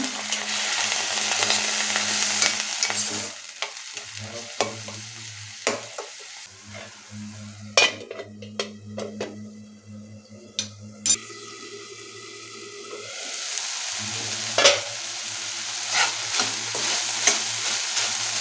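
Salted vegetables cook in a pan with a little water, under a soft sizzle and bubbling, while a spatula scrapes and clatters in scattered strokes close by.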